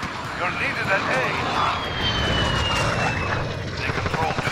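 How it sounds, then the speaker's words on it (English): Enemy VTOL jet roaring overhead in Call of Duty Modern Warfare multiplayer, a loud sustained engine drone with a sweeping pitch, layered with game noise. "Enemy VTOL jet in the AO."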